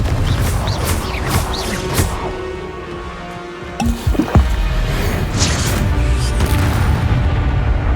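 A Confringo fire-blast spell goes off in Hogwarts Legacy combat, a loud booming crack landing amid dense, continuous game clatter and rumbling effects.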